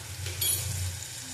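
Garlic and ginger hit hot oil in a pan while cooking pointed gourd and potatoes, giving a short, steady close sizzle that swells briefly and then settles, with no speech.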